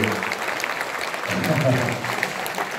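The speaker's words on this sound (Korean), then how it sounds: "자, 그러시면 다시 한번 뜨거운 박수 부탁드릴게요" A crowd at a book launch marking Park Chung-hee's 100th birthday claps after a live radio-drama performance. The even, continuous applause carries under a speaking voice throughout.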